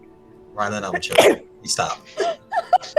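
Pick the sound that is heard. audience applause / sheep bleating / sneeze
sneeze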